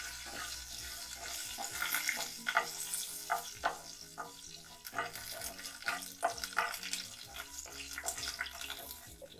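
Tamarind paste added to a pan of roasted curry leaves for tamarind pulusu, a bright watery sizzle and bubbling with stirring scrapes throughout, fairly quiet overall.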